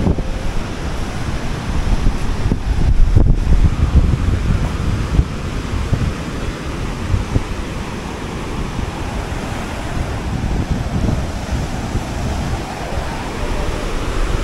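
Steady surf roars along the shore at high tide on Kuta Beach, Bali, while wind buffets the microphone, a constant broadband rush with a louder swell early on.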